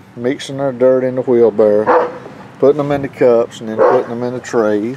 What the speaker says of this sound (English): You have to excuse my dogs, they barking everybody around.